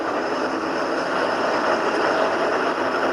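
A Toronto subway train heading south from Eglinton rumbles steadily from inside the car, a continuous roar of wheels and motors with no talking.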